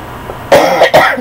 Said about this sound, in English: this is the last of the cough and it's just hanging on